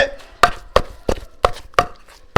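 Steady, evenly spaced heavy thuds, about seven in a row, like a pestle pounding in a mortar, close and loud with no talking.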